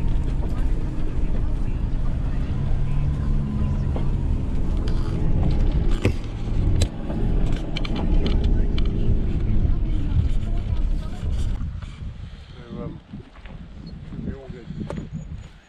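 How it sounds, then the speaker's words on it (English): A four-wheel drive crawls in low range along a rough, gnarly track, its engine rumbling close with knocks and clatters over the bumps before easing off near the end, while people talk throughout. "Bit of a gnarly track in. A low range four wheel drive."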